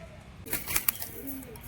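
Soft cooing of a pair of pigeons nearby with a brief flutter of wings over faint background noise.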